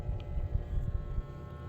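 A loud motor vehicle rumbles nearby with heavy low-end engine noise and wind buffeting, steady throughout the short stretch with no voices.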